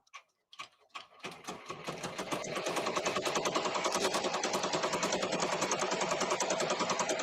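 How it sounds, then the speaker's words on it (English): A Ricoma embroidery machine stitches with silver thread. After a few separate clicks, it settles into a loud, steady, rapid mechanical chatter that keeps up to the end. "Now it's going to go and do the silver stitching."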